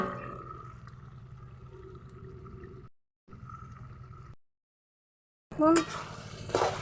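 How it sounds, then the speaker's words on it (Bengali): Malabar spinach and potato ghet stirred in a pan makes a low sizzle with scraping, broken by two short gaps, then a louder metallic clatter of utensils near the end. "দিয়ে আমি একটু নেড়ে ছেড়ে নেব"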